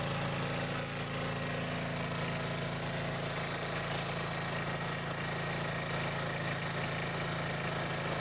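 A generator engine runs steadily at a constant speed with a loud, continuous mechanical drone and hum, with no breaks or voices.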